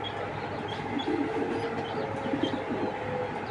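Racer pigeons cooing in a loft, soft repeated low coos over a steady background hum, close and moderately loud.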